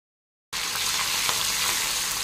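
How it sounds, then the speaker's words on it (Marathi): Garlic, cumin and ginger paste hits hot oil in a kadhai for a mushroom curry, bursting into a loud, steady sizzle after a moment of silence and holding unbroken to the end. "यामध्ये मी आता लसूण, जिरे व आल्याची पेस्ट घालणार आहे"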